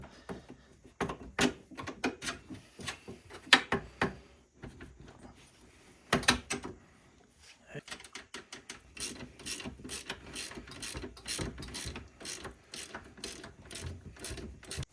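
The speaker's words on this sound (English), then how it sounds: "And throw this A-arm back on. Bolt we're gonna put through the back" Metal hardware rattles and clicks as an A-arm is bolted back onto a Honda Rubicon 500 ATV, with irregular ratcheting bursts, knocks and a rapid run of ratchet clicks near the end, close and without speech.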